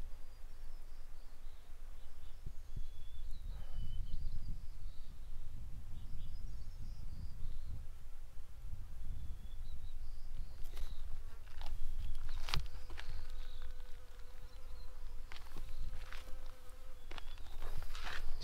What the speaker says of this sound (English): The bees, you can just hear them buzzing all over